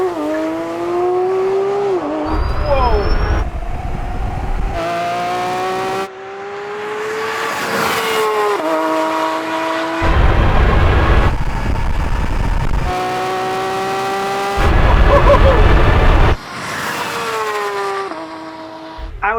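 Lamborghini Aventador SV and Porsche 911 GT3 RS drag racing, with loud engines climbing through rising revs and sharp gear changes in repeated bursts, close and dominant, plus a brief squeal of spinning tyres.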